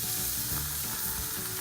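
Lamb chops seasoned with garlic and rosemary sizzle steadily on hot grill grates, a continuous close, even hiss of frying fat with no voices over it.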